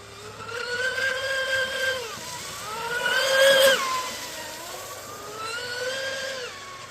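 An FPV drone on an 8S battery with 40mm propellers, its motors whining in repeated high-pitched pulls that rise and fall over a few seconds each, loud and close, swelling to a peak midway, with no voices.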